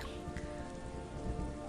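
Steady rain in the video game Star Wars Galaxies, a dense even patter that fills the short stretch with no voices.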